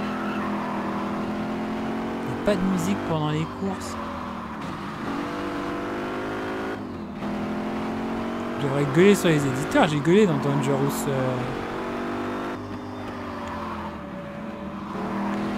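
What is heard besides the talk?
car engine noise in video game Gear.Club Unlimited 2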